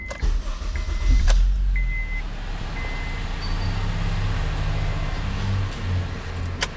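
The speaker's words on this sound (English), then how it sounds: "Hit the starter motor." A Honda starter motor cranks the engine, a steady low mechanical whir with a brief louder surge near the start, continuing evenly throughout at close range with no talk.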